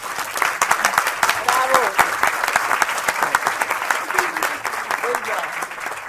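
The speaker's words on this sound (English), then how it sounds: "Let's give a round of applause to Jennifer." Applause from the crowd at an early childhood advocacy day press conference in Connecticut rolls on steadily and fairly loud throughout, with a few voices mixed in beneath the clapping.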